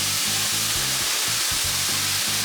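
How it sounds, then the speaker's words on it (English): Onions sizzling in a pan with a splash of balsamic vinegar, a loud, close, continuous hiss and crackle over a low rhythmic hum, no voices. "I'm gonna throw a little bit of balsamic vinegar in the onions"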